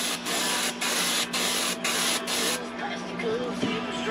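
Spray paint from a can hisses down the back of a fishing popper lure in short, steady bursts broken by brief gaps. A quieter rustle of handling follows.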